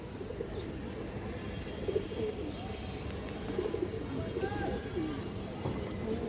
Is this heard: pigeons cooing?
yes